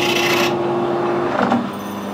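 A metal lathe cuts a chamfer onto a hex bolt head, giving a steady close grinding, rasping hum with a faint tonal whine that shifts and eases as the cut ends.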